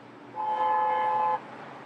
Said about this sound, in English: Drive this stretch of East Jefferson near downtown Detroit and you hear a lot of horns honking.